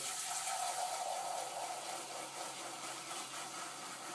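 Tap water runs steadily into a bathroom sink, a continuous hiss and splash that stays even throughout, with no voices.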